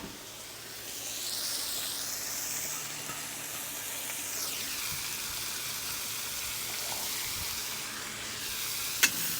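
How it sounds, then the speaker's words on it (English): Onions sauté in a lidded pot over an open outdoor fire, giving a steady soft sizzle and hiss throughout with a faint sharp click near the end. "Saute my onions."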